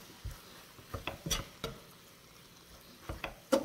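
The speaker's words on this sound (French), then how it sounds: "Et là, on va mélanger le tout." A spiced meat and vegetable filling, with oregano and thyme, is stirred in a pan, giving soft scraping taps and light sizzling patter in irregular bursts, close and quiet, with no talking.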